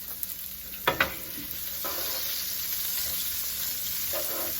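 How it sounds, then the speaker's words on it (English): Crisco butter sizzles steadily in a pan, preceded by a couple of brief clanks, with the frying hiss holding close and even throughout. "What I'm going to do, I'm just going to let this here saute up here some"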